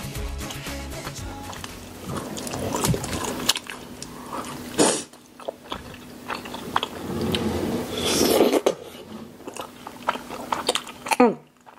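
Someone chews Sinjeon tteokbokki close to the microphone, soft wet mastication and small bites, with breaths, a sharp throat-clearing sound and murmured voices around it.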